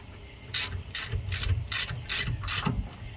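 Quick bursts of a hand ratchet run half-inch bolts down into cleaned brake caliper retainers during mockup work on a 318 engine build, six short clicking runs in a steady rhythm, close and clear with no talking.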